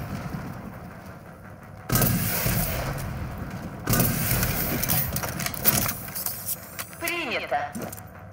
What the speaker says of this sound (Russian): стреляет маленькими самонаводящимися ракетами